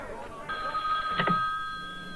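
A telephone bell rings in a steady, sustained burst lasting over a second, fairly clear and close, with a faint background hum.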